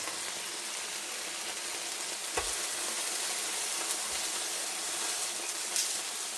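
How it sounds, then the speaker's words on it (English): Broth poured into a hot skillet over sliced little yellow potatoes and browning pork, giving a steady loud sizzle with a couple of soft knocks from a whisk, no voices. "So let me add in the broth here with my"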